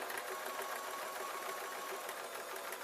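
A sewing machine stitching hat seams, running in a steady fast buzzing rattle for a few seconds without pause, close and alone.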